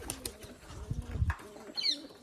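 Soft coos and rustling from black-and-white pigeons close by, with a quick burst of wing flapping near the end.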